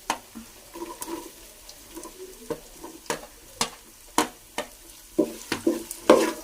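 Ginger and garlic frying in a pan for beef pickle, a soft sizzle broken by irregular scraping stirs and clinks of a spoon against the pan, close and fairly quiet.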